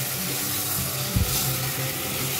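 Meat and masala fry in a pan during stirring for a home-cooked curry, giving a steady, broad hiss and sizzle with a brief knock of a utensil partway through, close and fairly even in loudness.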